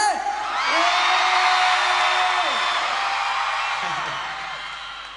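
A large concert audience roars and screams continuously, a loud wash of cheering that swells and then slowly fades over several seconds.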